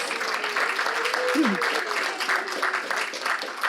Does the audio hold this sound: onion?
no